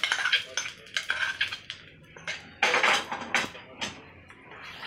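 A metal spoon clinks and scrapes quickly against a bowl, mixing a hot tempering with fried coriander into curd and rajgira. The clatter is close, irregular and rapid, with no talk.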